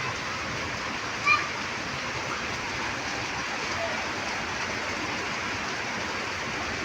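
Heavy rain pours steadily in a broad, continuous hiss like rushing water, with one brief faint knock partway through and no clear voices.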